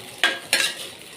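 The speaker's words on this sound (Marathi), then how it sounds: "पोहे चांगले फिरवले का मिक्स करून घ्यायचं." Two quick scraping strokes of a spoon stirring poha in a pan, each a short rustling swish over a faint background sizzle.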